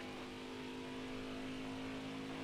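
Race car engines in NASCAR Heat 5, 1998 mod cars at Pocono, drone steadily at a sustained high pitch, a continuous loud engine tone holding for a couple of seconds with no talk.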